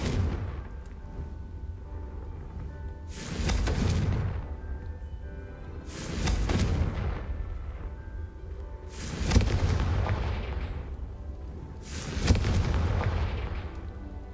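Confringo fire spell explosions from the video game Hogwarts Legacy burst as four loud booming blasts spaced about three seconds apart, each swelling and fading over a low rumbling game background.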